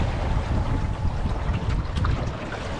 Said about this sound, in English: We're actually surfing on the waves at this speed.